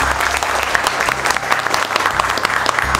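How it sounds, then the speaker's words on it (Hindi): A class of students applauds loudly and continuously, a dense close burst of many hands clapping throughout. "28 दिसंबर के बैच के लिए एक बार जोरदार ताली बजाओ भाई अपने।"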